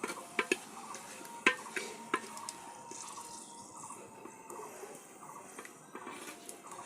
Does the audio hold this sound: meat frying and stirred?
yes